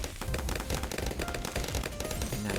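Tower in Bloons TD 6 shooting flaming spikes, heard as a dense, constant rattle of rapid hits and pops amid busy game sound, continuous and loud throughout, with no talking.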